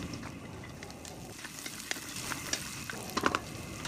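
Tofu sizzles in a pan with onion and green chili. A soft, continuous frying hiss carries faint crackles and a few light stirring clicks near the end, quiet and without voices.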